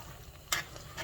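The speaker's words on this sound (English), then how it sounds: "we're going to let this simmer on the stove for a little bit" Lasagna sauce simmering in a pot on the stove gives a faint, steady low bubbling with a couple of brief soft sizzling hisses.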